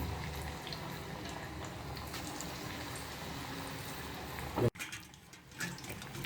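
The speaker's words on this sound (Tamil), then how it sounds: "போண்டா போட்டாச்சு, பாயில் ஆகிட்டுருக்கு." Ponnanganni greens bonda frying in hot oil, a continuous bubbling sizzle that drops off abruptly and returns quieter and more sparse.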